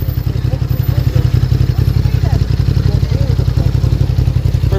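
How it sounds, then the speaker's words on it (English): A motorcycle engine runs right beside a street paper seller at a roundabout in Margate, Kent, giving a loud, steady, close rumble that fills the whole stretch. "The engine's like right here."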